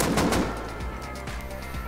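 Full-auto gunfire from a weapon in the Rust video game, a dense rapid burst at first that thins into a few separate shots over a steady low rumble.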